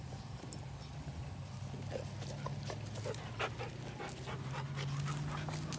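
A farm cow dog pants steadily outdoors, quick soft breaths repeating close by over a low background hum, with faint occasional clicks and rustles.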